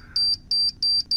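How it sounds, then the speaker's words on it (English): Four sharp, high electronic beeps from a bomb in a cartoon, in a steady, evenly spaced rhythm, loud and clear over a quiet background. "Wait, what's that beeping sound?"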